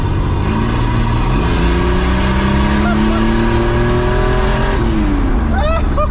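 Turbocharged all-wheel-drive Chevrolet S10 pickup with stock-tuned idle screws, its engine loud and close, revving hard with rising and falling pitch over a constant roar, with a brief shift dip midway and tire chirps near the end.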